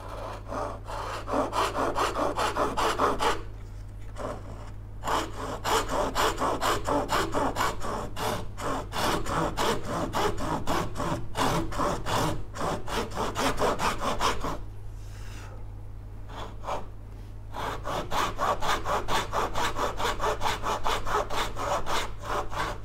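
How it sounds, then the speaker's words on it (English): A hand saw cuts through wood to trim it to length, with rapid, rhythmic back-and-forth rasping strokes close up, pausing briefly twice before resuming. "use this saw and we can cut this on the line just to trim it for length."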